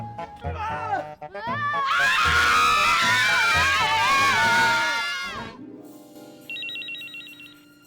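A telephone rings with a bright electronic trill near the end, following a loud burst of overlapping shrieking voices and chatter that fades out before the ringing starts.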